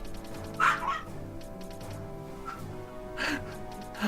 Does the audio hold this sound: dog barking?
yes